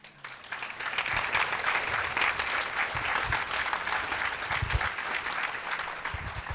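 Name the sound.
audience applause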